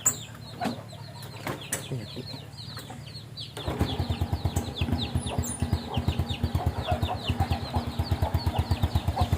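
Chickens clucking and squawking nearby in a busy, rapid flurry as a dog chases them, with flapping and scuffling sounds mixed in, growing louder partway through.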